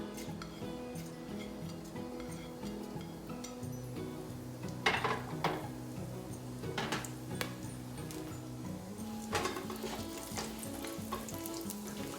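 Whole cinnamon, black cardamom and cumin sizzle steadily in hot oil for mutton curry, a continuous crackling fry with a few sharper spatters and light utensil ticks, no talking.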